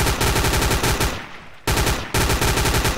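Rapid automatic gunfire from a zombie shooter game rattles loud and close in long bursts, broken by a short pause and a reloading lull before firing resumes.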